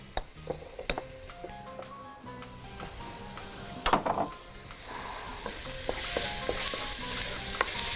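Salted onions sizzle in a pot while a spoon stirs them with scattered scrapes and clinks, the frying hiss building steadily louder toward the end, with no talking.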